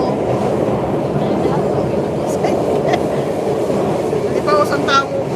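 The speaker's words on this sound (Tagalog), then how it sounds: "Nasa MRT kami." A metro train on an MRT line rolls along its rails with a continuous loud rumble and rattle, faint wheel squeals rising near the end, as passengers chat throughout.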